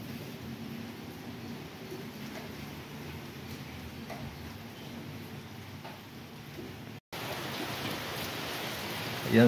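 Heavy typhoon rain pours down as a steady, dense hiss that fills the whole stretch, cuts out briefly near the end and returns a little louder.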